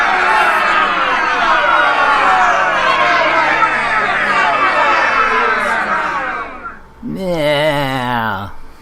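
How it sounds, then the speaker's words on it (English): A crowd at a California gas tax ballot political rally reacts loudly with continuous cheering and chatter for about seven seconds, then the noise fades and a single rising and falling voice-like cry follows near the end. "So let's hear from the crowd for Governor Jerry Brown of California."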